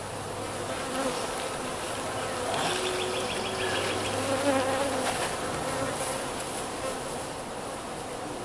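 Honeybees swarm around a nuke box hive set at an outdoor deer feeder, a steady, dense buzzing that holds at a constant level throughout, with individual insects passing close now and then.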